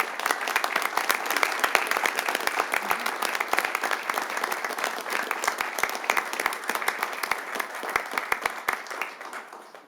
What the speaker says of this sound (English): I would love for you to join me in a round of applause for Dan Rizek and Bob Surgott from SHTV